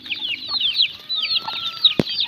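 Pet chicks at feeding time, a close cluster of rapid high-pitched peeping and chirping calls overlapping continuously, with a sharp knock partway through.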